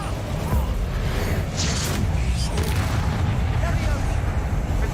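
The Bombarda explosion spell in the video game Hogwarts Legacy: deep, rumbling blasts layered over dense, constant combat noise.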